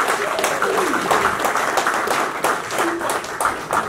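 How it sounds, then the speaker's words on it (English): An audience claps at an alumni anniversary gathering, a fairly loud and continuous patter of many hands with scattered sharper claps, and some voices underneath. "a better round of applause for Michael Ofori"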